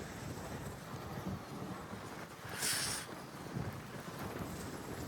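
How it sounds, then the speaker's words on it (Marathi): Strong wind blowing outdoors on a hillside in Satara, a steady broadband roar buffeting the microphone with gusts that swell and fade. There is no talking. "हवा बघा केवढी हवा आहे."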